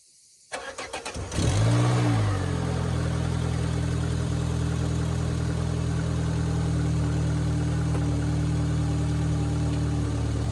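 Car engine cranks with a few quick turns, catches and fires up, then settles into a steady, even idle that runs on alone at moderate loudness.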